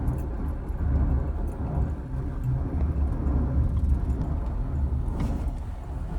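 Chevrolet Silverado Z71 single cab pickup parking on ice, its engine a steady, close, low rumble that holds evenly with slight wavering and no talk over it.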